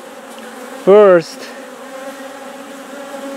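Honey bees hum steadily around a queen cage at a hive, with one loud, close buzz swelling and fading within a fraction of a second. A voice speaks a single brief word.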